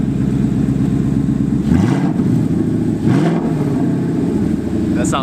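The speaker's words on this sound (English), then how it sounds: "Guys, go ahead, rev it, dude." A resonator-deleted 2015-17 Ford Mustang GT roars nearby through two sharp throttle blips that rise and drop back, over a loud, rough idle.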